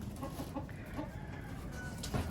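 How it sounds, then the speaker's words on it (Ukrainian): An Araucana hen at a country dacha gives soft, repeated clucks close by over a steady outdoor background hum, with a slightly louder cluck right at the end. "курочка араукана"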